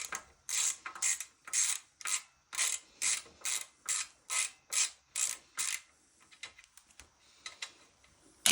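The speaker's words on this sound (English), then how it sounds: "let's try unscrewing that, because maybe that was the issue" A hand ratchet works a fastener on a go-kart: about a dozen quick, evenly spaced clicking bursts close up, then a few scattered lighter clicks and a final knock, with no talking.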